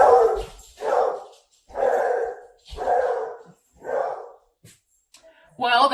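A beagle named Clarence barks several times indoors, loud close woofs in an uneven series with short gaps between them.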